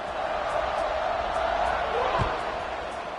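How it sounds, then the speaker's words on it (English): A football stadium crowd in Memphis keeps up a steady, loud buzz of many voices after a score, with a commentator talking over it throughout. "this crowd is buzzing after that last score"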